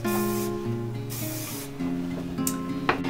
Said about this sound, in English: spray this layer with heat protectant